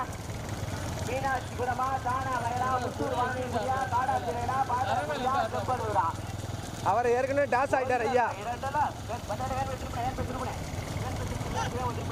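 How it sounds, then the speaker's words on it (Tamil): Hooves of bulls pulling carts beat rapidly in a small bullock cart race at a Sembanur village event, a steady patter under a loud excited Tamil commentator over a public address. "முதலாவதாக வந்து கொண்டிருக்கின்ற மாடு"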